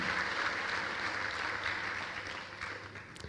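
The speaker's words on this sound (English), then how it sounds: "Everybody, please give a huge round of applause for him as well." An audience claps steadily through a B.Tech orientation program, a sustained, even wash of applause at moderate level that tapers slightly toward the end, with no speech over it.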